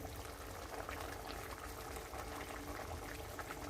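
A pot of tamarind brinjal curry simmers with a soft, continuous bubbling that stays faint and even, with no other sound on top.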